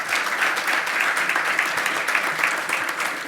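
An audience at a regional meeting applauds, a steady dense patter of clapping from many hands at moderate loudness for a few seconds, without voices over it.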